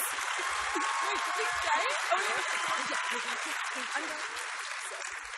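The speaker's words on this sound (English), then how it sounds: "Please give her a round of applause." Audience applause fills a convention panel hall at Star Wars Celebration 2017 in Orlando, a steady dense clatter of many hands lasting several seconds, with voices talking over it.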